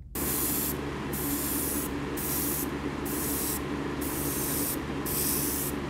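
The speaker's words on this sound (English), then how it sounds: "So we're going to do a fine misting over the back of this with a little bit of this iridescent" An airbrush mists iridescent yellow paint onto a bass lure, giving a steady close hiss of spray that pulses in regular bursts as the trigger is worked, with no talk.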